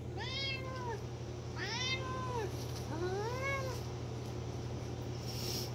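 A long-haired cat meows three times in close succession, each call clear and drawn out, over a steady low background hum.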